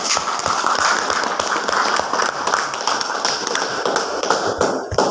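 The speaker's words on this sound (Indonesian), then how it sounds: "Beri tepuk tangan untuk gubernurnya." Audience applause for the governor at an occupational safety and health (K3) event, a dense, steady patter of many hands clapping together, sustained and fairly loud throughout.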